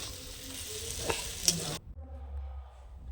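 Sizzling fish oil and a spatula scraping through eggplant frying in a pan with cumin powder, with a sharp clink midway, then the sizzle drops to a quieter low hum.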